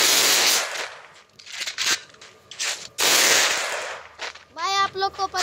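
Shotgun blasts ring out in a mobile shooter video game, several sharp, loud bursts separated by brief gaps, with a voice speaking near the end.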